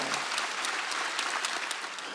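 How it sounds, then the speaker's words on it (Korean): A church congregation claps during a Sunday worship service, a dense, even burst of applause filling the room with no talk over it. "박수 치라고요."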